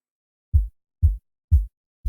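Four deep, punchy hits of a layered kick drum sample land at an even pace, each a short thump with a quick decay into silence.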